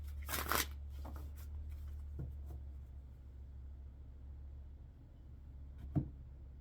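A deck of tarot cards is shuffled with one sharp riffle near the start and a soft slap of cards near the end, over a low steady background hum.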